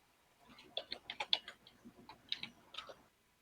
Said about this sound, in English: Oh no, the ominous typing.